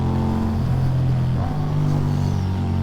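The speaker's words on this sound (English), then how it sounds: "It's that crack as you go up the throttle there." A Ducati V4 Diavel with a full Akrapovic exhaust, ridden on a wet road, gives a loud, close, continuous engine drone that holds steady with slight shifts as the throttle rises and no clear separate pops.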